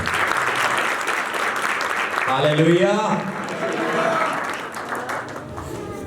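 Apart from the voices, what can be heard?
applause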